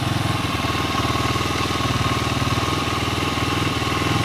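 A Skygo King 150cc motorcycle engine idles steadily during carburetor tuning, a close, continuous low putter with even firing pulses and no talk.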